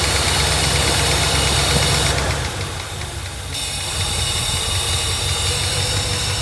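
A Mercedes 380SL engine idles at about 500 RPM with a loud, steady low rumble and a mechanical ticking. It briefly dips and softens before settling back to a constant idle.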